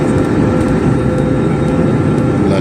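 A passenger airplane cruises at night between Mumbai and Delhi, its cabin filled with a loud, steady, unbroken engine and air roar, heard alone with no voices.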